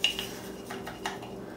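A metal tablespoon clinks against a dish while burger sauce is measured out, a few sharp light taps close by, spaced irregularly, with no voices.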